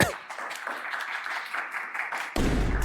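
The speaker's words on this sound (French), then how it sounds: "Applaudissez-le, s'il vous plaît." An audience at a dating show applauds in a continuous, fairly faint patter of many hands that carries on throughout, with a louder, fuller shift near the end.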